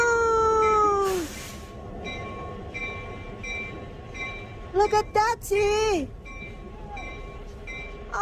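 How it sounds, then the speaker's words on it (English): Real train passing nearby, with rumbling rail noise and several wavering horn tones sounding in short bursts, while people talk excitedly over it. "It's a real train."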